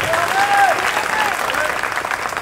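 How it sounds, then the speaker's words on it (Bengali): A crowd applauds at a Jubo Dal workers' meeting in Mohammadpur Ward 33, Dhaka, cheering a youth leader. The clapping is loud, thick and continuous, with faint voices mixed in. "সবুজের জন্য একটু জোরে হাততালি হবে।"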